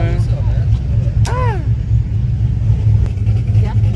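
A small-block V8 drag car engine rumbles and revs steadily at close range, with people talking over it throughout.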